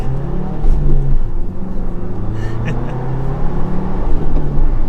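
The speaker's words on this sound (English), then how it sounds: "So we'll do another acceleration. So getting into some traffic." A 2021 Ford Bronco Big Bend with a 6-speed manual accelerates in traffic, its engine droning loud and close from inside the cabin, rising and pausing between shifts.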